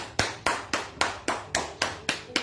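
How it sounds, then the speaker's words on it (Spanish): A church congregation claps in slow unison, with nine evenly spaced sharp claps in a steady rhythm, fairly close and moderately loud. "Dale un fuerte aplauso al Señor."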